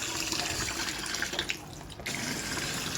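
Water from a plastic basin pours into a clogged washing machine, a continuous close splashing rush that briefly dips mid-pour before resuming steadily, with no voices.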